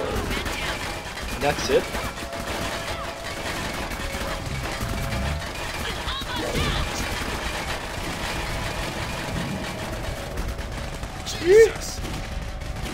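Gunfire from the shooter Clive Barker's Jericho crackles in steady bursts over a low engine-like drone. Someone briefly speaks over it, and a sharp louder shot stands out near the end.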